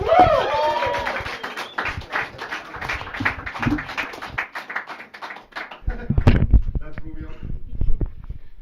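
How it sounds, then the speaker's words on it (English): A live comedy-show audience applauds and cheers as comedian Rico is brought on, a dense wash of clapping for several seconds that thins out before renewed claps and voices near the end. "Give it a warm round of applause for Rico."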